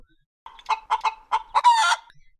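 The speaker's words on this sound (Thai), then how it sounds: "เสียงของไก่แม่ไข่ดังขึ้น เพราะมีคนเดินเข้ามาในเล้า" Laying hens in a coop cluck in a short burst of separate squawks that end in a longer, louder cackle, close by against a quiet background.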